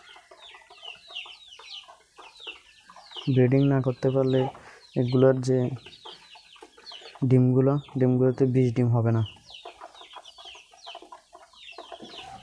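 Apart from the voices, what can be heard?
chickens clucking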